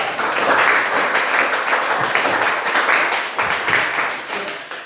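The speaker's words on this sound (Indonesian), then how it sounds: "Ya, tepuk tangan dulu sama kelas." A classroom of children applauding together, close and lively clapping that swells in uneven waves for several seconds before tapering off.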